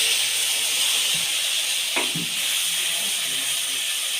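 Ginger paste with turmeric, chilli, cumin and coriander powders hitting a hot pan for a pui shak and ash gourd curry: a steady, even sizzling hiss throughout, with a soft stirring bump near the middle.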